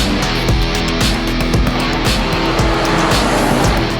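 A powerful muscle car roars along the road, its engine loud and close with a rough, pulsing growl and shifting revs, no talking.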